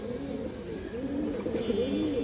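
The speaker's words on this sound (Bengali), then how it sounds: "একটা সাদা মাদি কবুতর আছে, অনেক সুন্দর একটা কবুতর দর্শক।" A white female pigeon cooing close by, soft rolling low coos repeating steadily over a faint background hum.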